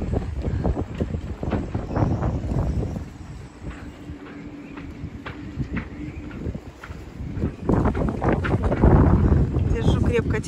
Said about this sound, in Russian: Сегодня холодный ветер.